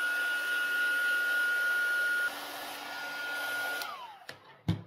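A hair dryer blows steadily while drying paint on a dyed Easter goodie bag, a continuous close whooshing hum that shifts pitch slightly, then is switched off and followed by a couple of soft handling knocks.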